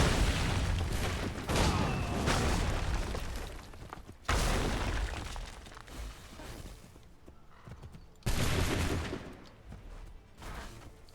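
Powder crates exploding in a historical video game, three sudden loud blasts at roughly four-second intervals, each decaying into rumbling debris and crackle, with horse hooves clopping in the background.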